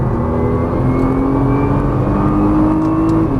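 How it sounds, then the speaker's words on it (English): A Nissan GT-R accelerates hard on a driving course, a steady, loud engine roar with a slowly climbing tone holding for a few seconds, close and continuous with no talk. "Squeeze that throttle. Accelerate hard."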